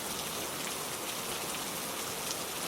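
Steady rainstorm drumming on roofs, a dense, continuous hiss of countless drops at even loudness throughout, with no voices.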